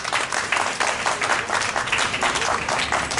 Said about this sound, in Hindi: इनके लिए एक बार ताली बजा दीजिए